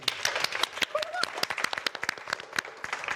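A group of people clapping, with sharp, distinct claps in an uneven rhythm and fairly close, while a voice talks briefly over the middle of the applause.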